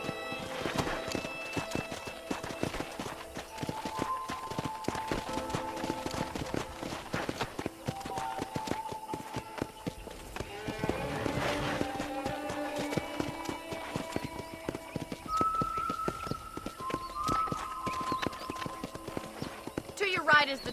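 Horse clip-clop hoofbeats from a riding horse in the Red Dead Redemption video game, a steady rhythmic trot under continuous game dialogue and background music, with a brief whinny-like tone.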